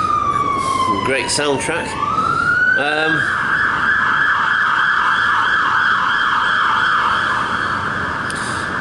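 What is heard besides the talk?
emergency vehicle siren passing by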